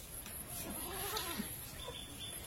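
A goat bleats faintly at a distance in a rural setting, a few wavering calls over a steady outdoor background hiss, with no speech.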